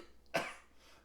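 A single harsh, close cough from a man in a comedy sketch bursts out suddenly and trails off quickly into quiet.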